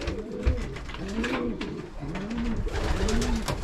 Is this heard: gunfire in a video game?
no